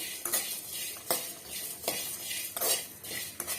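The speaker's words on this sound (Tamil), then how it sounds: "ஜஸ்ட் வந்து ஒரு டூ மினிட்ஸ்க்கு மட்டும் வதக்கி விட்டுக்கலாம்" Spoon or spatula scraping and stirring roasted masala in a metal pan for Tamil bottle gourd kootu, with rhythmic strokes about every second and a faint sizzle underneath, close and alone.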